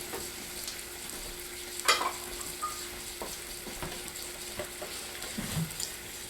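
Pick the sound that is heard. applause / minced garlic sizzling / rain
minced garlic sizzling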